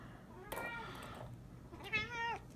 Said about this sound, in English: that's my cat attempting to jump up on my shoulders